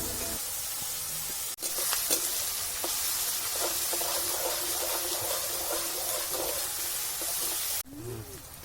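Onion with turmeric frying in a pan gives a dense, steady hiss of sizzling oil, with a brief clatter near the start and a sharper knock toward the end.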